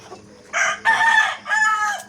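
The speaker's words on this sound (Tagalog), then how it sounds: "Daming manok naman dito." Chickens and a rooster in a yard, a close, loud rooster crow in three drawn-out bursts over soft background clucking.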